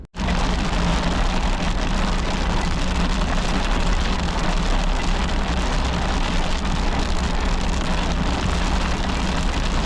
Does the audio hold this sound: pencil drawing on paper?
no